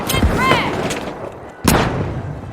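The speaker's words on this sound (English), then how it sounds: "Throwing a flashbang!" Flashbang grenade in the video game The Finals, heard as sharp bangs and thumps, including one loud burst, amid game effects and a voice calling out.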